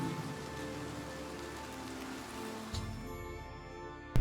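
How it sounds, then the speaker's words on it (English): Steady, soft rain patters on surfaces in the Oblivion Remastered video game, a constant even hiss with a faint click near the end. "It's just raining."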